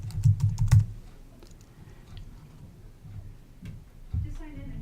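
Keys clatter on a computer keyboard as an immigration form is filled in, a quick burst of near, sharp taps at the start, then sparse light clicks over a low room hum, with another short flurry near the end.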